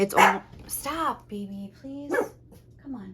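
Pet dogs bark repeatedly at close range in a home, loud and sharp, while someone talks over them trying to settle them down.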